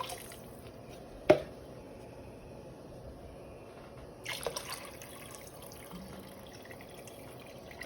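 A quart of water going into a soup pot while making a copycat Zuppa Toscana, with a sharp clank near the start and a soft splashing pour later, quiet and alone in a kitchen.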